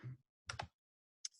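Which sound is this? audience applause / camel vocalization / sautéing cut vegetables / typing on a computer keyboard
typing on a computer keyboard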